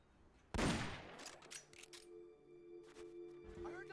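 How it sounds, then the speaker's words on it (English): A sudden burst of rapid gunfire in Metal Gear Solid: Peace Walker erupts, followed by scattered shots and metallic clinks, with a steady electronic tone and game effects lingering underneath. "I heard gunfire."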